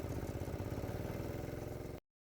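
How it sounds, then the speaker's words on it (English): A small 3 horsepower diesel engine on a golf cart working hard, a steady low rapid chugging clatter that runs loud and close for two seconds, then cuts off abruptly. "that engine's working hard, and it just keeps going"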